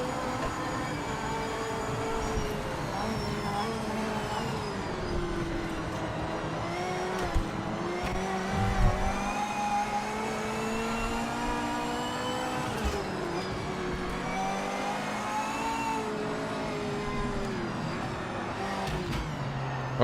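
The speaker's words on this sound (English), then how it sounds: "And even the sounds with this car, yeah, it sounds like a C8 Corvette" Race car engine in the racing game Project Motor Racing, resembling a C8 Corvette: a continuous droning roar that rises and falls in pitch with gear changes, steady and fairly loud throughout.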